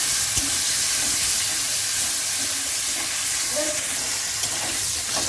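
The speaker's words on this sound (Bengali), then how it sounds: "এবার আমি দুটো কাঁচা লঙ্কা দিয়ে দিলাম। এবার আমি একটু নেড়ে নিচ্ছি।" Two green chillies fry in a pan beside tomatoes for a spinach fish curry, giving a steady close hiss that runs unbroken throughout with faint stirring noises mixed in.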